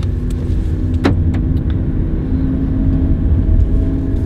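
Inside a Renault Zoe electric car pulling out of a home parking spot in the Netherlands, a steady low cabin drone and road rumble carry on throughout, with a brief whirring sweep and a few faint clicks near the start.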